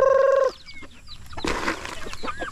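Chickens on a farm clucking, a loud close call at the start followed by scattered softer clucks and rustling.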